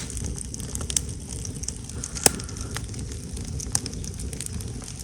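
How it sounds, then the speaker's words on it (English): Campfire on day five of a Northville-Placid Trail backpacking trip after light drizzle, crackling steadily up close with a few sharp pops standing out over a soft breezy background. "Finally, day 5, I got a campfire going."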